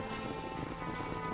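Horse hooves clip-clop steadily while herding cattle to a pasture in the Western game Red Dead Redemption, a continuous close rhythm under faint background music and a low murmur.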